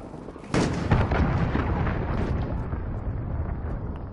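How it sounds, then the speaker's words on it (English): A cruise missile explodes in Call of Duty Modern Warfare, a sudden loud boom followed by a long roaring, rumbling tail that slowly fades over several seconds. "Enemy cruise missile, take cover."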